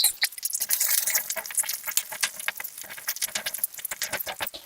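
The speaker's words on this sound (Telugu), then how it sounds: "ముందుగా కట్ చేసుకున్న ఉల్లిపాయలు వేసి ఫ్రై చేసుకుందాం" Chopped onions fry in a pan with cinnamon sticks, cardamom pods and cloves for a paneer curry, giving a close, busy crackle of dense patter and stirring scrapes with no talking.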